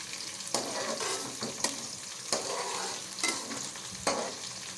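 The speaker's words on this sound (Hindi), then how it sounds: "आप देख रहे हैं कि मेरा प्याज बस फ्राई हो रहा है" Sliced onion frying in hot ghee in a kadhai, with a steady close sizzle broken by about five sharp scraping stirs of the spoon against the pan.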